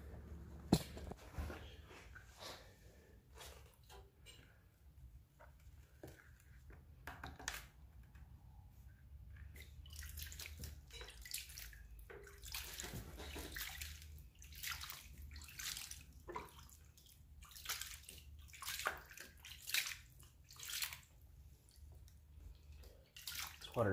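Sluice material being panned for gold in cold outdoor water, with close, quiet sloshing and splashing in irregular bursts and small trickles, continuing throughout with no talking.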